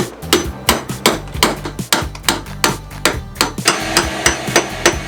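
A hammer strikes a chisel to remove a corroded boat thru-hull, giving sharp, loud metallic blows at a steady rhythm of roughly two per second over a low humming background.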